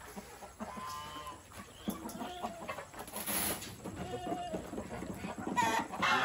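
Chickens on a farm cluck and squawk in scattered bursts near and far, including black hens, with brief louder calls and a soft background hiss.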